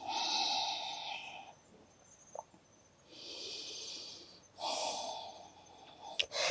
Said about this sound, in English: Take a couple of nice calming breaths here.